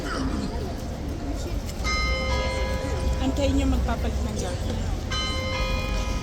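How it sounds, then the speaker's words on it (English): A bell rings at Horse Guards with sustained metallic tones over a crowd's murmur, fading and then striking again near the end. "Okay, there's the bell."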